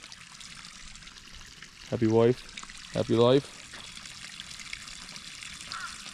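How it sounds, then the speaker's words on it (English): Water from a long garden hose trickles and pours steadily into a newly lined duck pond, a low continuous flow under a man's brief spoken remarks in two short bursts. "All right, the water is going in."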